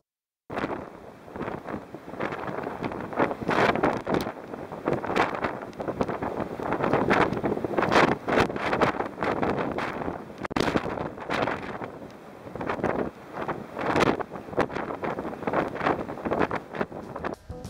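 Gusty wind buffets the microphone on a waterfront embankment in loud, irregular bursts, rising and falling throughout with no talking.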